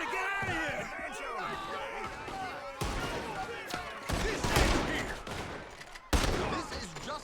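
A video game shootout erupts in rapid bursts of gunfire, heavy volleys and sharp shots crashing in close and loud, with shouting voices mixed throughout.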